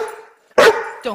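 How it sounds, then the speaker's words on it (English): A single sharp Boxer dog bark sounds close by, with a voice just before it. "Don't bark at me."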